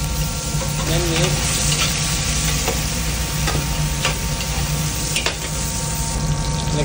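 Chili con carne fries in a pan with onion and chilies while being stirred, giving a constant loud sizzle with scraping strokes of the spoon against the pan throughout.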